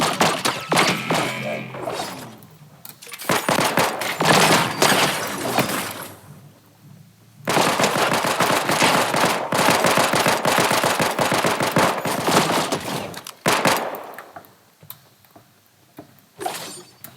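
Rapid bursts of smart pistol gunfire in a video game, a dense stream of sharp cracks with impacts and a few pauses between volleys, loud and close throughout.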